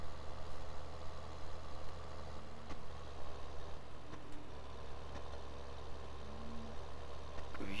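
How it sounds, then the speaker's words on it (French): A tractor engine idles with a steady low drone in a farming simulator game set on a farm with a harvester, loud and continuous with no talking. "Je ramène le tracteur à la moissonneuse, on la vide d'atrémie."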